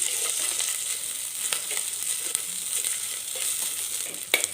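Grated ginger and onion sauté in a clay pot with a continuous bright sizzle, joined by occasional scraping stirs and a sharp clink near the end, close and without speech.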